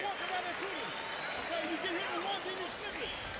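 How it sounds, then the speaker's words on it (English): A sold-out boxing crowd at the Olympic Auditorium keeps up a continuous wash of cheering and clapping from a distance. A commentator talks steadily over it throughout. "Crowd's getting a lot of action at the Olympic Auditorium"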